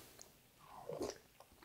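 A single soft, close bite and chew of tteokguk, Korean rice cake soup with aged kimchi, a brief muffled crunch-and-squish mouth sound heard alone and fairly quiet.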